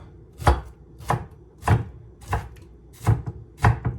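A knife chops purple onion on a board in seven crisp, evenly spaced strokes, close and clear, with no talking.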